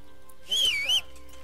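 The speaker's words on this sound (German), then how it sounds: "schön gepfiffen" A short whistled call in Kingdom Come: Deliverance, a single rising-and-falling melodic tone lasting about half a second, clear over a faint steady background hum.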